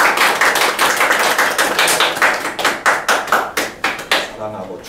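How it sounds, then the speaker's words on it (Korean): A church congregation at a Korean worship service claps together in a loud, steady, rhythmic patter that runs for several seconds, then tapers off as a voice resumes. "우리 박수를 한번 서로 격려할까요?"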